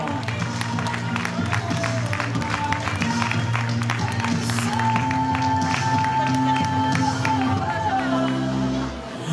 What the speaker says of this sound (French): Je vous demande d'accueillir Manon Coste sous vos applaudissements